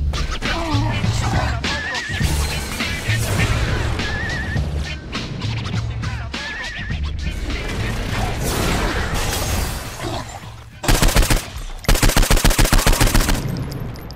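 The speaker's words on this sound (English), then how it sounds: "Then you can shoot him." Rapid automatic gunfire in the Saints Row IV video game, with loud bursts of shots near the end over a continuous game soundscape and background noise.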